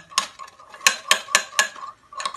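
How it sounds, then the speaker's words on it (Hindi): A spoon stirs aloe vera gel and alcohol together in a container for homemade hand sanitizer, clinking sharply against the sides about six times in a quick, uneven rhythm, close and clear with no talking. "ये अल्कोहल डालने के बाद आपने इसे अच्छी तरह मिक्स करना है"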